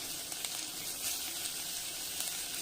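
Ginger and capsicum sautéing in a pan for a pasta fry masala give a steady, close hiss and sizzle with faint stirring clicks and no talk.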